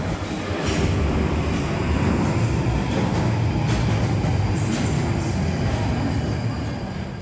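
A London Underground train runs toward Waterloo station, a steady loud rumble of wheels and carriage throughout, with faint clicks and rattles over the continuous roar and no talk.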